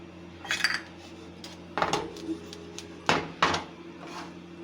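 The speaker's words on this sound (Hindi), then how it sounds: "हम साथ ही अब ये पापड़ों जितने हमने बनाने हैं उसको डालेंगे और साथ ही नमक को हिलाना शुरू कर देंगे।" Metal clinks and scrapes sound as hot salt is stirred in a pan to roast papad without oil, in a few short bursts over a low steady kitchen hum.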